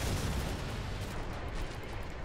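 Pistol fire in the video game Killing Floor 2, heard as a dense, loud, continuous barrage of blasts with a booming low rumble throughout the short burst, with no talking.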